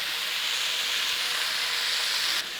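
Tomato and onion salsa cooking quickly in a pan for a Honduran tajadas dish gives off a steady, bright sizzle with no pauses, the hiss holding level throughout before easing slightly at the very end.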